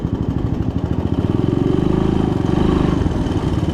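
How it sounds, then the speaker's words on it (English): A three-wheeler ATV engine labors in low gear while driving through flood water, its steady mid-pitched rumble loud and close with a continuous clattering pulse throughout. "That's what we got low gear for, I guess."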